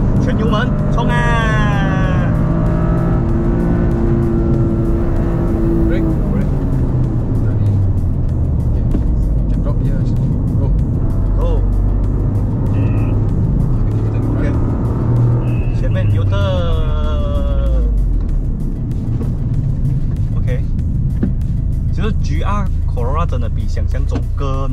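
A Toyota GR Corolla at full throttle on a race track: a loud, continuous engine roar climbs steadily through the gears, with voices talking over it inside the cabin.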